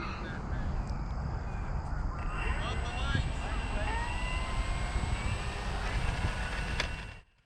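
An FMS Corsair 1700mm V3 RC model warbird takes off on its maiden flight, its electric motor and propeller whining steadily and loudly for several seconds, with a rising tone, over outdoor wind noise before cutting off abruptly.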